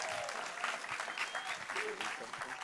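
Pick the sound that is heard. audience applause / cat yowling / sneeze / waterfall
audience applause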